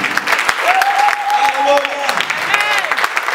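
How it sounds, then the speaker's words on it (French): A church congregation applauding during a worship service, a dense rhythmic clapping with crowd voices, while a voice speaks or sings over it. "Acclame Jésus, mon pasteur. Acclame Jésus"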